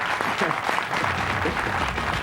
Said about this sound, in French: Eh oui, on vous applaudit beaucoup.